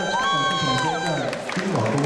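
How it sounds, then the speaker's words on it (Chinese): A crowd cheers and whoops at an outdoor live radio broadcast with a singer at The Clementi Mall in Singapore, a loud, steady roar with sustained tones running through it for about two seconds. "顺便掌声欢迎。"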